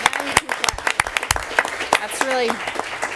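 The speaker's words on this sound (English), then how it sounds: "Now you can clap." Scattered, uneven hand claps from an audience at a city council work session and meeting, fairly close and moderately loud, with voices talking over them.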